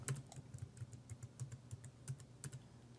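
Faint, quick clicking of keys on a computer keyboard as a MySQL password is entered during a software install on Windows, a steady run of closely spaced taps with no voice over them.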